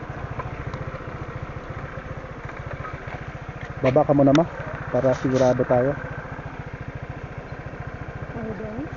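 Motorcycle engine idling steadily on a sandy dirt trail at Sapang Bato, Clark, Pampanga, a low continuous pulsing drone throughout, with people talking briefly over it midway.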